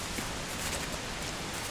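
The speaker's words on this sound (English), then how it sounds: "The rain's kicked in again" Steady rain falling outdoors on a snowy trail near waterfalls, a dense even hiss of drops close around with no gaps and no voices.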